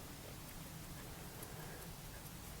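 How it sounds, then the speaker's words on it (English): Dew or mist dripping from leaves all around in woodland, a faint, steady pitter-patter of drops with no other sound. "I can hear the pitter-patter of, not rain, it's dew or mist or whatever, falling from all the leaves all the way around me."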